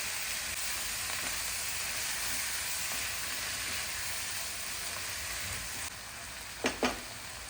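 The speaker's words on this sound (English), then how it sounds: "I'm adding 500 grams of tomatoes." Tomatoes cooking in a pan for tomato soup give a steady, even sizzling hiss from start to finish, with two short knocks close to the end.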